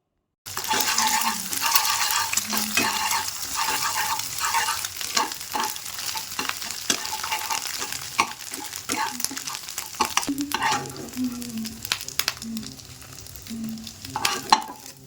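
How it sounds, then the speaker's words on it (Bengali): Salted egg scrambled into small bits and fried in a pan, a steady loud sizzle with frequent scraping stir clicks throughout, no voices. "এর উপরে আমি অল্প একটু লবণ ছড়িয়ে একদম ছোট ছোট কুচো কুচো করে ভালোভাবে ডিমটাকে ভেজে নেব।"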